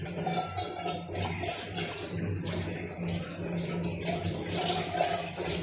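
Tap water runs steadily into a kitchen sink after dishes are washed, a continuous close splashing rush with no talking.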